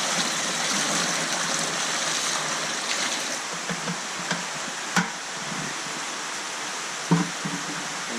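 Fresh water pours steadily into a tank holding a five-year-old, 3.5-foot wels catfish, a continuous rushing splash heard close and alone, with a few brief louder sloshes near the end.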